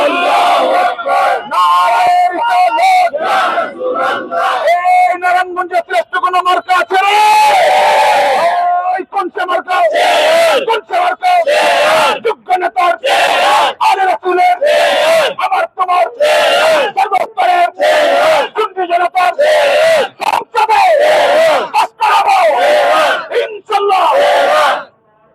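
Large religious gathering crowd roaring a chanted Allahu Akbar slogan in reply to a takbir call, loud massed voices in repeated rhythmic bursts, near and sustained throughout.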